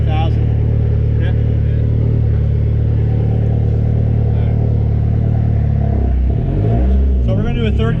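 A turbocharged Dodge SRT-4 making over 400 hp roars continuously at high revs during a third-gear dyno pull, a loud, steady engine drone that drops away near the end into rumbling and clatter.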